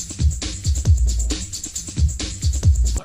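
Original drum break from a trance track loops with a heavy, thumping kick and crisp snare under a hissy, layered top, steady and fairly loud with a slightly muffled tone.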